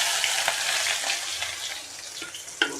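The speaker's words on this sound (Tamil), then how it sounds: "சின்ன வெங்காயம் வந்து நல்லா செவந்து வரணும். அந்த அளவுக்கு நல்லா வதக்கணும்." Quartered shallots sautéing in hot oil for brinjal kulambu, a dense continuous crackling sizzle with occasional light stirring taps, close up and with no voices.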